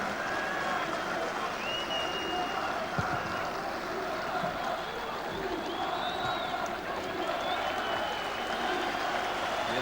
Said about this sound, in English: A round of applause you hear is for Gordon Dalziel, making his way up the track, heading for the tunnel.